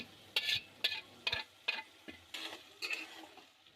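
Cauliflower fry with fried egg stirred in a pan, a spatula scraping and knocking against the metal in about eight distinct strokes, close and fairly quiet, with a faint sizzle underneath and no talking.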